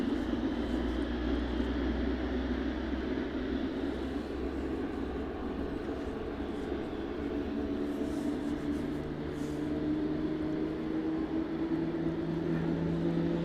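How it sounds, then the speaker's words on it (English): A Boeing 777 starts its jet engines at East Midlands Airport, a loud, steady roar with a rising whine that builds and holds throughout, heard alone and nearby. "Engines on that 777 just starting up."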